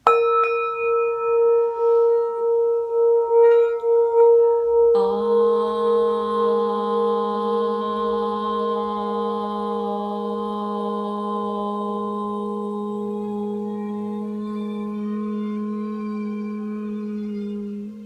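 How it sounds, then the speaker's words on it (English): A struck singing bowl rings out with a wavering hum, then a second strike brings a deeper, sustained resonant tone that slowly fades, quiet and alone. "I'm going to do the singing bowl"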